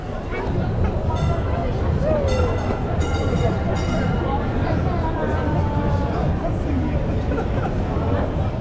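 Taksim tram rolling through a busy Istanbul street, a steady near rumble of wheels and motor with crowd chatter and street noise around it throughout.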